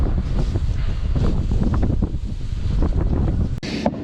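Wind buffets the microphone outdoors beside a custom John Deere 7000 corn planter, a steady loud low rumble throughout with one brief sharp knock near the end.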